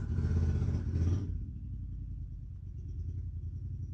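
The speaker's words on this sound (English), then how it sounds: "I'm sorry if you hear the motorcycle." A low motorcycle engine rumble, loud for about a second then settling into a steady idle drone that continues to the end.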